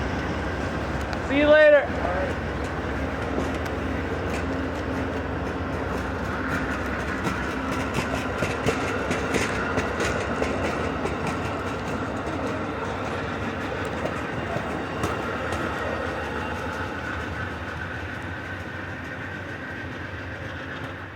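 An Amtrak passenger train on the Michigan line, ending with a Sightseer lounge car, rolls past with a steady rumble and clatter of wheels for the whole stretch, a brief horn-like tone early on and people talking nearby.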